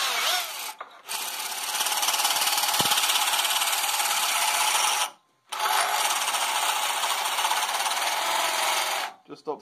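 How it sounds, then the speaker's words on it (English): A power drill grinds steadily through scrap wood in long continuous bursts, stopping briefly twice before starting again, loud and close. "So I'm going to drill up through about the center."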